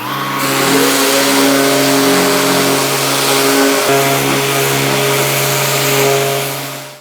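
A Festool ETS EC 150 random orbital sander runs steadily at speed setting 4, a loud, even motor whine with a smooth hum that holds for several seconds before tapering off.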